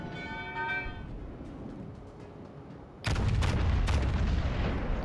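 Warship guns fire in World of Warships, a booming salvo that breaks in loudly after a quieter rumbling stretch, with several heavy, close blasts rolling together into a sustained roar.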